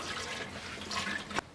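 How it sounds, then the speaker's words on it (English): Coolant pours through a funnel into a car's overflow bottle, a close, trickling, gurgling liquid stream that swells briefly before a sharp click ends it, no voices. "I'll just put my funnel in here, and I'll just pour my coolant in until it gets to the max line on the overflow bottle."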